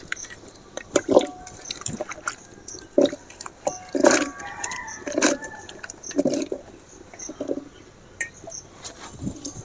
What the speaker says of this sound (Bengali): এবারে আমি পরিমাণ মতো জল দিয়ে কেটে রাখা আলুগুলো সেদ্ধ বসিয়ে দেবো